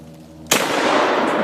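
One loud gunshot goes off at a propane tank in an outdoor setting, a sudden sharp crack followed by a long, rumbling decay that carries to the end.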